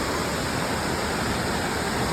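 Tortum waterfall in Erzurum roars in a dense, continuous wash of rushing water, loud and close with no voices over it.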